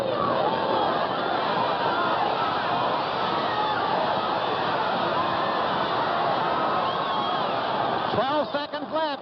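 A boxing crowd at the Sonny Liston versus Bert Whitehurst fight makes a steady, dense roar as it cheers for the underdog, with a commentator talking over it throughout.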